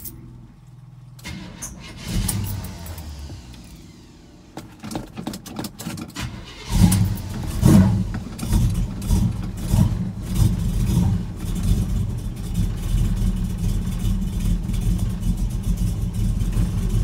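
A 1978 Chevy C10 pickup truck engine cranks and catches, then revs up and settles into a steady, rumbling run close by.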